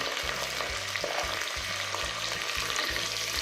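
Peas tossed into onions frying in a pan for tomato pulao crackle with a steady sizzle, and rhythmic stirring scrapes sound close by with no talk.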